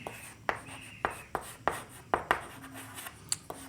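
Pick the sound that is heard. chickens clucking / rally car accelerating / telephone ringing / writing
writing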